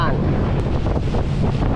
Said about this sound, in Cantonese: 一個大東風，我哋向西面行